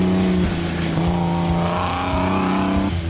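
Isuzu Class E bakkie race truck powering away on a South African circuit, a loud steady engine drone with shifting revs that drops and picks up again, running continuously close by with no talk.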